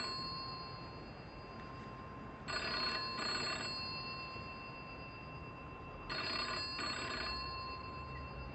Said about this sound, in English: If the phone rings, don't answer it.